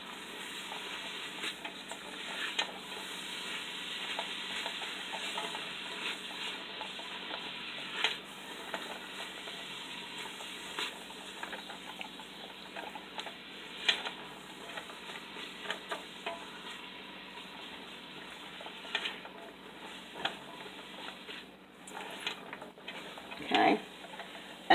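Onions softening in butter in a pan, a low continuous sizzle with occasional light clicks and scrapes of stirring, faint and steady throughout.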